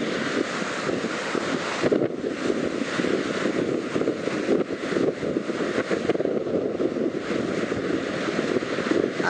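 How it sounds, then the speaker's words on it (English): Rough sea at Wash Away Beach, Washington, in late October, with strong wind buffeting the microphone over a steady roar of surf and breaking waves, loud and continuous with no talk. "show you how rough the seas are"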